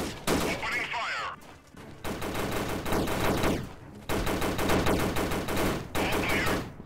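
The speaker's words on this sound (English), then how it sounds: "Opening fire." Rapid bursts of automatic gunfire in a guerrilla-warfare video game, loud and close, firing in sustained volleys broken by brief pauses.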